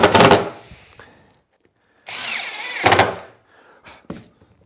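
Short bursts from a power drill driving screws into wood, close and fairly loud, with quiet gaps and a few small knocks between bursts.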